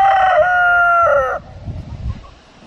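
A black copper Marans rooster crows once, loud and close, the long harmonic call ending abruptly and followed by quieter rustling and low farmyard noise.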